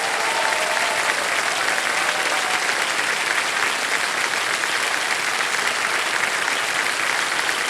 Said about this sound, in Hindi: सब लोग तालियां बजा दें जोरों से इनके लिए